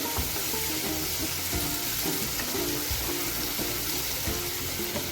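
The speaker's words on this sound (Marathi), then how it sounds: "त्याचबरोबर आपण टोमॅटोसुद्धा घालू आणि हे सुद्धा चांगलं परतून घेऊ तेलामध्ये चांगला हलवत राहायचं" Onion, garlic and tomato sizzle in hot oil in a pan for paneer bhurji, a steady close frying hiss broken by repeated scraping stirs of a spoon, with no talking.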